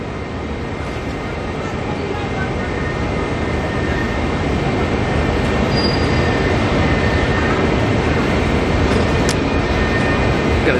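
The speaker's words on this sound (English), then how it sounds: "Got a Jetstar rolling on down the taxiway there." A Jetstar airliner rolls along the taxiway at Auckland Airport, a steady, broad engine rumble and whine that holds constant throughout, with faint tonal hums and speech on top.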